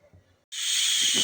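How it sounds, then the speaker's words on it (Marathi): A pressure cooker boiling potatoes bursts into a loud, steady steam hiss after a brief quiet moment, close and sustained to the end. "आपल्या कुकरच्या शिट्ट्या होत आहेत."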